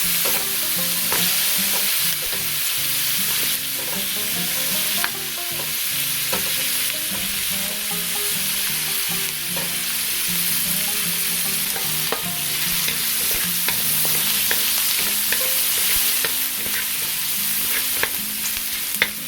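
Onion, garlic and ginger sautéing in a pan for beef tendon sinigang, a steady close sizzle running throughout with repeated scraping stirs and occasional utensil taps.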